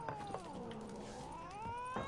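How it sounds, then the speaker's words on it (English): A small cat in The Witcher 3 lets out a drawn, gliding meow, nearly continuous for two seconds, faint and slightly distant with quiet game ambience behind it. "Oh, a little cat."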